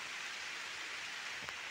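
Heavy rain pours steadily in a dense, even hiss with no breaks, heard alone and at moderate distance.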